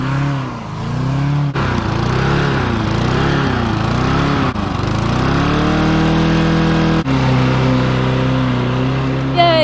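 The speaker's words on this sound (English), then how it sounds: "someone dropped off a lawnmower to us yesterday" A small petrol lawn mower engine runs steadily and loudly nearby, its pitch rising and falling as it revs, with brief cutouts and restarts.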